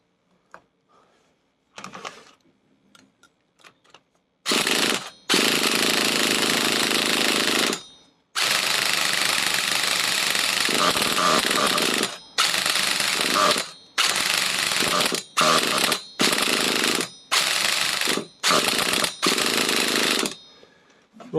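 A Triumph Trophy motorcycle engine cranks and fires in loud, broadband bursts, running for a few seconds then cutting out, repeatedly, with brief pauses between attempts.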